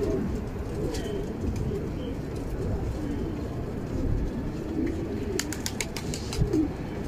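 Pigeons cooing in a loft, soft repeated coos over a steady rustling background, with someone talking nearby at times.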